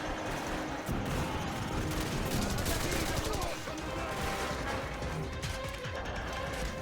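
Rapid bursts of automatic gunfire and explosions from the Modern Warfare video game, in a mission like Blackout or Charlie Don't Surf, crackle loudly and continuously with a few heavier impacts.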